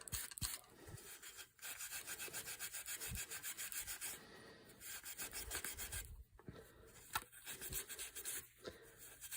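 A wooden rifle stock, a Highland MacNab, is rubbed down by hand with acetone, giving steady close rasping strokes in repeated bursts with brief pauses between passes.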